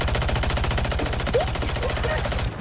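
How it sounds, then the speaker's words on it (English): Continuous rapid-fire gunfire in a video game, a dense unbroken stream of shots that runs loud and steady for nearly three seconds before cutting off, with a brief voice faintly underneath. "I'm just shooting and not stopping."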